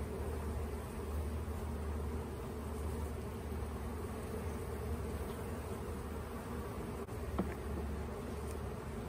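Honeybees around an open backyard hive on a hot summer day make a constant, close, full-bodied hum that stays even throughout, with no voices over it.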